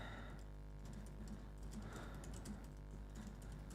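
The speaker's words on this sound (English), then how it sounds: "people can hear us typing" Fingers tap steadily on a computer keyboard in a quiet room, a soft continuous patter of keystrokes that continues throughout with no talking.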